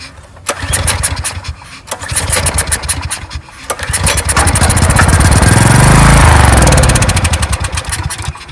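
A 14-year-old Briggs and Stratton generator, left sitting for over five years, is pulled over repeatedly with choppy rapid cranking bursts, then catches briefly into a loud rising engine roar that fades back down, close and loud, with no talk.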